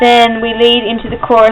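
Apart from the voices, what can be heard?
None of the usual background noises is heard.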